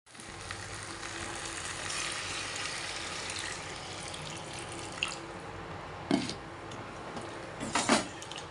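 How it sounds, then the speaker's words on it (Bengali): Water is poured into a cooking pot of small potatoes, giving a steady rushing hiss that fades with a couple of brief splashes near the end, close and moderately loud, with no talking. "তো চলো এখন এটা এবার জল দিয়ে দিই"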